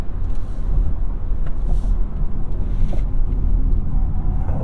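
A 2022 Hyundai Tucson in sport mode heads into a corner, heard as a loud, steady low road and engine rumble from inside the cabin with no talk.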